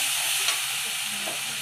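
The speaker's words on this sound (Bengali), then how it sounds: "মশলাটা তেলে দিয়ে ভাজা ভাজা করে নিচ্ছে।" Ground spice paste frying in hot oil in a home kitchen, a soft steady sizzle and hiss with a faint stir, heard alone without talk.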